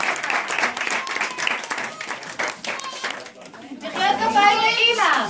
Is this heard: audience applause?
yes